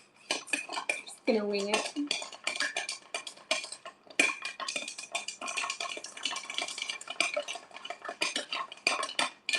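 A Rob Roy, a Scotch Manhattan, being stirred, with quick rhythmic metallic clinks and scraping repeating nearly continuously and at close range, while a person talks briefly over it.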